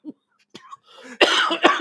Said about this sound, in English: Sorry, my pneumonia shame cough.